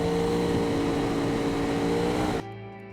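A turbocharged car engine in the racing game Automation drones at a steady high pitch, loud and sustained as the car runs a test track, then drops abruptly to a lower idle near the end.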